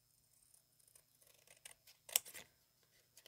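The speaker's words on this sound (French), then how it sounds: "Et puis là, je viens couper." Scissors snip paper while making corners for album pages, a few quiet close cuts building to a sharp crisp snip, with no talking.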